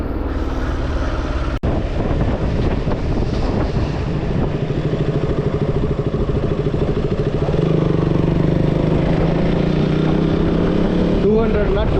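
A motorcycle engine climbs in pitch as the rider accelerates, a steady droning whine under wind rush, with a sharp click near the start.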